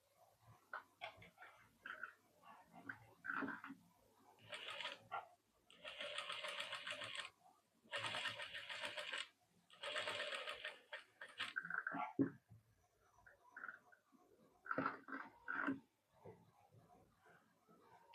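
Domestic sewing machine stitching a sleeve design, running in several steady bursts of rapid, close mechanical whirring with pauses between them, with someone talking quietly at times and a dog briefly audible.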